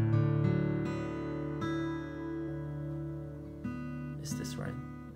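An acoustic guitar in an altered open tuning rings with sustained strummed strings that decay slowly, followed by a few softer plucked notes, close and fairly quiet.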